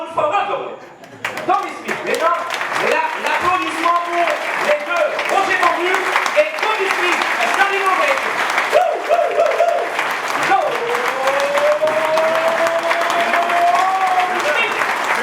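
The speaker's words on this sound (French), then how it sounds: "You are in for Tommy Smith, mesdames, l'applaudissement" A crowd applauds warmly for the Olympic sprinter Tommy Smith at a public event, loud sustained clapping with a few cheers and tonal sounds rising over it, filling the whole stretch after a brief quieter start.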